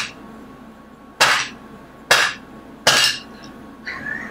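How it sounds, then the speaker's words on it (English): A hammer strikes an adjustable wrench three times to press a bearing onto a C6 Corvette performance driveshaft, each blow a sharp, loud metallic clank with ringing decay, about a second apart, with a lighter tap at the end. "Just put it like that and hit this with a hammer."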